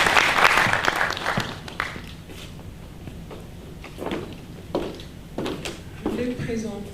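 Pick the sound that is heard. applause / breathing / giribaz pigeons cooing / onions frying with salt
applause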